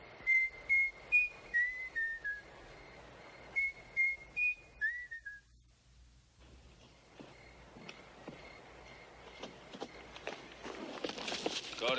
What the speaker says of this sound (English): You just keep whistling.